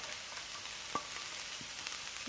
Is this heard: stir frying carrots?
yes